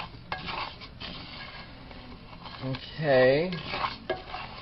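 Rice browning in a pan for Mexican rice, stirred with a utensil that scrapes and clinks against the pan over a soft sizzle. A brief voice is heard at the start.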